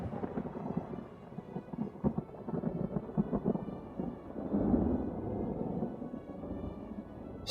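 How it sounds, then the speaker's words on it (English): Thunder from a lightning bolt out at sea under a cloudless sky: a long, deep rumbling roll that swells near the middle and lingers, with a faint rain-like hiss underneath. "What could have caused that thunderbolt?"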